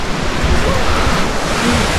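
Spring water trickling and pouring into a river, a steady broadband wash of flowing water that stays close and fairly loud, without a break, for about two seconds.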